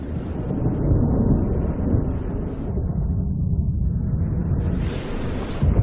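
Deep thunder from a storm building over the open sea near a diving platform rolls and rumbles continuously, heavy and close, with a burst of wind or rain hiss near the end.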